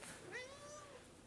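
A house cat gives a single drawn-out meow lasting about a second, close and clear, with no voices around it.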